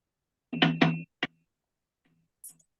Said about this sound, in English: Just then, there's another knock at Cynthia's door.